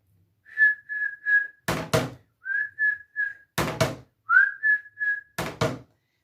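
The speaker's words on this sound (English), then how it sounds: "I'm going to whistle the call" Someone whistles three short rhythmic phrases of three notes each, every phrase answered by a pair of sharp percussive thumps.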